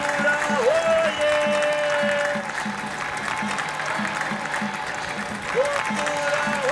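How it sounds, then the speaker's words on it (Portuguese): A crowd applauds at a cultural festival during a gift presentation to provincial delegations, a steady wash of clapping with a faint tonal whistle or feedback line and a light rhythmic beat running underneath. "uma grande salva de palmas para todos"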